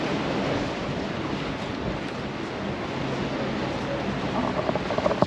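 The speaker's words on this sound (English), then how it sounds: "Super windy day out here though in Mykonos today." Steady wind roars and buffets outdoors on Mykonos, a broad rushing noise with a few gusty bumps near the end, no voices.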